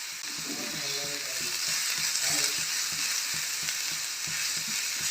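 Onions fry in a pan until golden brown, a dense, even sizzle running throughout with faint scraping and clicking of stirring beneath, close and steady.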